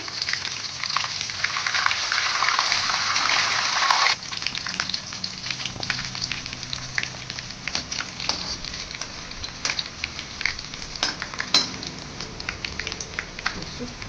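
Green chillies sizzle in hot oil for avalakki uppittu, a steady close frying hiss that is loudest at first, then settles into a thinner crackle with scattered pops.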